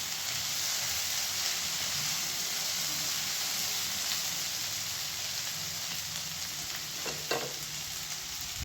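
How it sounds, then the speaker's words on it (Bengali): Bottle gourd peels sizzle and fry in a pan, a steady close hiss of hot oil that runs unbroken throughout, with a brief clink of a utensil near the end. "সব কিছু আমি ভালো করে ভেজে নিয়েছি"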